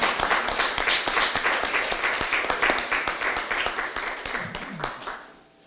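A crowd at a joint leadership meeting of the Democratic Party of Korea claps, individual hand claps standing out in a fairly even rhythm over the general applause, fading toward the end as a voice comes in.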